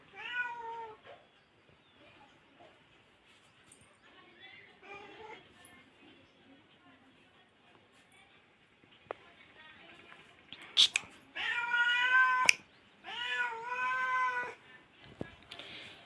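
A cat meows several times, a few drawn-out calls clustered toward the end, close and fairly loud over a quiet room with soft murmuring early on.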